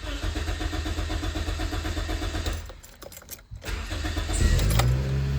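A Toyota Echo, just fitted with a replacement gas tank, cranks for several seconds with keys jangling, then catches and settles into a steady, close, loud idle.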